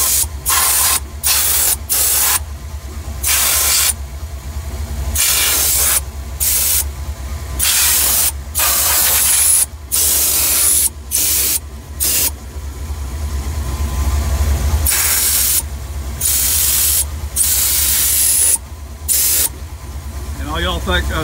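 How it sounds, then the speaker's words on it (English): A compressed air nozzle blasts in repeated loud, sharp bursts of hissing air over an idling engine rumble, with short gaps between blasts and a longer continuous blast near the end; a voice talks at times. "I've been blasting it with the air nozzle here a little bit"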